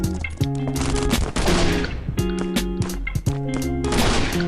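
Rapid bursts of loud shotgun fire crack repeatedly over a constant din of effects in the game Last Island of Survival, dense and close, with no voices.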